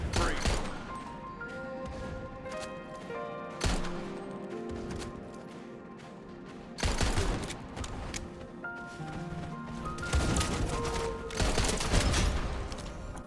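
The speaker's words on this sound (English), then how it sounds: "Zoom in with your sniper rifle, shoot and immediately swap to your secondary." Sniper rifle shots in the video game Wild Assault: several sharp, loud gunshot blasts ring out over a dense, busy game soundscape, with the strongest reports about a few seconds apart.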